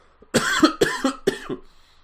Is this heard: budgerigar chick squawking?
no